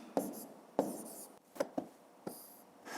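A pen or pencil writing numbers by hand on paper, heard as a few short, close scratches and taps separated by brief pauses, quiet with no speech over them.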